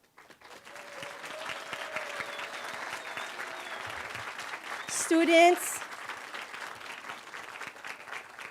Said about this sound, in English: let's give them our loudest applause.